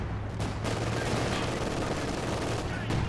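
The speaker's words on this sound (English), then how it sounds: "Another artillery barrage being brought in." Continuous heavy gunfire and explosive artillery rumble from a video game battle, dense and loud throughout with brief bursts standing out, no talk.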